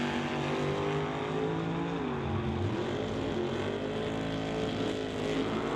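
Drag racing cars, a 1927 Ford Roadster and a 1978 Malibu, roar down the strip at about 150 mph, a loud sustained engine drone with shifting pitch that stays dense and continuous, no voices over it.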